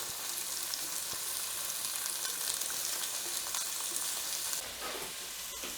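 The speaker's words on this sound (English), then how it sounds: "So I'm just going to get them in there and let them cook through." Shrimp searing in a hot pan with a steady, dense sizzle that holds at moderate level, shifting slightly near the end, with no voices.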